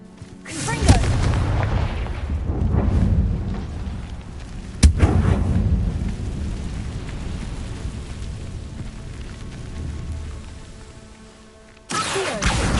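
Confringo fire-spell explosions in the Hogwarts Legacy video game: deep, booming blasts with a rumbling roar, one sharp crack midway, and another burst at the end.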